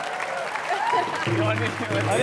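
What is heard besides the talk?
audience applause for comedian Johnny Lever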